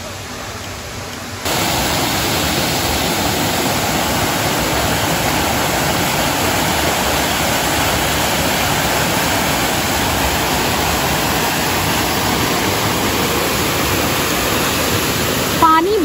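Barati Rau waterfall in an Uttarakhand forest, a loud, steady roar of falling water that swells in after a quieter opening second and continues unbroken, close and full.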